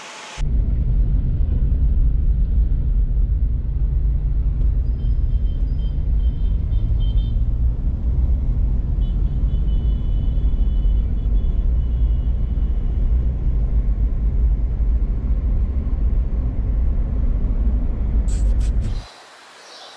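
Steady low engine rumble and road noise from inside a moving car on Zanzibar, continuous and fairly loud, cutting off abruptly near the end.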